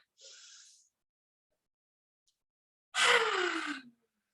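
Forceful exhaled breaths during a yoga breathing exercise: a short airy puff near the start, then a louder, longer rushing exhale about a second long, with silence between.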